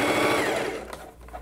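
A sewing machine runs steadily while stitching a polka-dot tulle blouse with a backstitch, its fast whirring motor loud and close before easing down toward the end.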